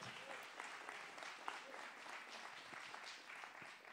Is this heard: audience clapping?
yes